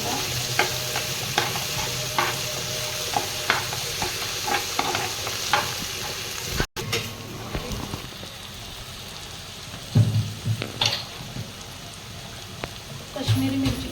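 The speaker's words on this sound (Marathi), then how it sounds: "सगळं चांगलं परतून घ्यायचं आहे." Wild mushrooms and chopped tomatoes sauté in a pan with a crackling, rain-like sizzle and busy stirring clicks, then softer frying with occasional louder scrapes and knocks.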